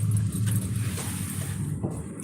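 Dogs whimper and whine up close for about two seconds over a loud, rumbling background.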